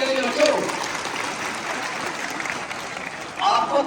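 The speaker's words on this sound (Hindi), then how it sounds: "ताली बजाइए इनके लिए बच्चों।" Children in a classroom clap for a classmate, a brief burst of applause that swells at the start and again near the end, with soft chatter under it.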